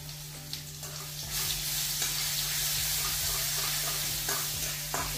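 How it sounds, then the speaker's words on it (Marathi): Cumin and mustard seeds sizzle in hot oil in a home kitchen, a steady bright crackle with a few faint knocks and a low hum underneath. "याच्यात थोडीशी जिरं आणि मोहरी टाकत आहे"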